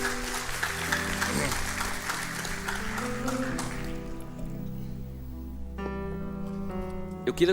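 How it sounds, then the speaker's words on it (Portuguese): Congregation applause during a church service fills the first few seconds, then fades as sustained musical tones take over. "Dê o melhor aplauso que você pode dar a Deus."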